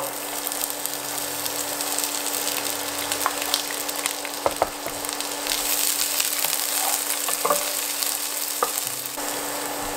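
Onion frying in rapeseed oil in a pan gives a continuous close sizzle, with occasional spatula taps and scrapes as it is stirred.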